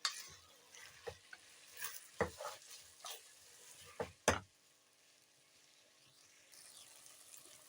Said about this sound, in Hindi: अच्छी तरह जरा मैं इन्हें फ्राई कर लूं।